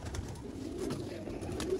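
Pigeons of a Sialkoti flying breed coo softly and continuously, a low murmuring warble repeating through the clip with a steady backdrop of bird noise and no talk.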